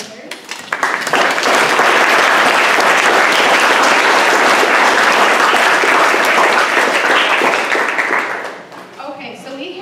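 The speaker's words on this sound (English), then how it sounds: "I'd love to give another round of applause to all of our contributors." A party crowd gives a loud, sustained round of applause for contributors to a quiz game, dense clapping that builds quickly, holds strong and then tapers off near the end.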